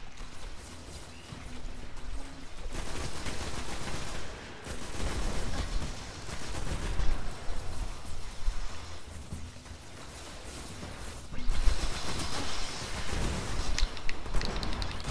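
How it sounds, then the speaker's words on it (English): Shotgun blasts in the video game Destiny, several bursts of gunfire spread across the stretch amid game sound effects and mechanical noise, with no talk. "Let's do my shotgun."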